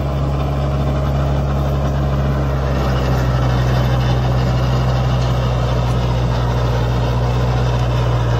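Kubota MU 4501 4WD tractor running under load, pulling an 8-foot rotavator with a harrow behind, a loud close steady diesel drone with a strong low hum that deepens slightly partway through.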